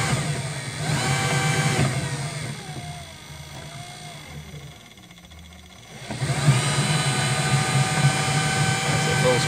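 An electric motor in a Toylander with a custom controller whines at full speed, loud and steady, dipping briefly in the middle before surging back.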